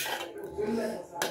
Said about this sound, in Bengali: বিরিয়ানিটা ভালো করে নেড়ে নিলাম।